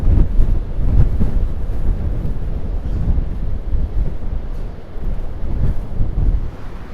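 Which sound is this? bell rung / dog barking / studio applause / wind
wind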